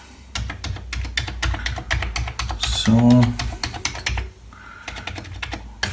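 Typing on a reassembled computer keyboard after a repair, a rapid run of close, crisp key clicks with a brief spoken word partway through and a short pause before the tapping resumes.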